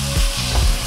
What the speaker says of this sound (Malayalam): ഇനി ഇതിലേക്ക് 2 ചെറിയ തക്കാളി മിക്സിയിൽ അടിച്ച് പേസ്റ്റാക്കിയത് കൂടി ചേർത്ത് കൊടുക്കാം.